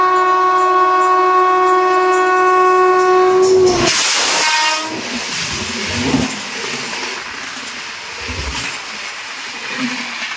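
A train at Dankuni railway station sounds a long, loud, steady horn for several seconds, then rumbles past with clattering wheels and a hissing rush.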